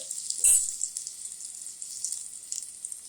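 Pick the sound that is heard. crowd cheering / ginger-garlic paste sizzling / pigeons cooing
ginger-garlic paste sizzling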